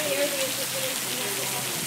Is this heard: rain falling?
yes